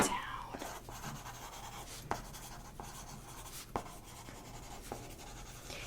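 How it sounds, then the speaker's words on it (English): A pen writes on paper at close range, soft scratching strokes with a few sharper taps spaced across several seconds, faint and intimate under a quiet whispering voice. "let me just write that down."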